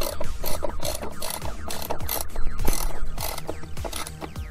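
Steady, loud ratchet clicking as a 7mm fastener is tightened on a plastic dash mount inside a Jeep Wrangler JK, rapid even strokes repeating closely for several seconds.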